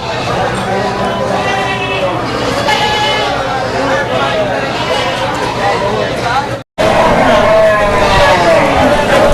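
Goats bleat repeatedly at a busy wholesale goat market in Manikganj, their calls mixed with crowd chatter and people talking close by, broken by a brief dropout near the end.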